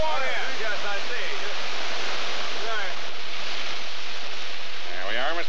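Water rushes and gurgles as a container is held under the surface and fills, a steady broadband wash with voices talking over it at the start and end.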